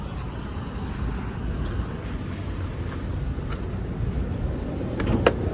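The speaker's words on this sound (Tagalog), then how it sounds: "Sobrang tahimik ng makina niyan guys." A Nissan Sentra B14 engine idles very quietly, a steady low rumble heard up close with faint wind-like hiss and no talking.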